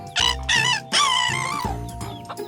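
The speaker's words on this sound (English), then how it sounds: "That's a good crow, Robi." A rooster crows on a farm: three loud, close calls in quick succession, the long middle one rising and holding before trailing off, with no other sound around them.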